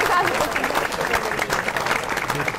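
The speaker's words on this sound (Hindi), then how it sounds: "ज्यादा तालियां, ज्यादा तालियां" Studio audience applause at a Pakistani television election-coverage event runs as steady, fairly loud clapping throughout, with a voice faintly heard underneath.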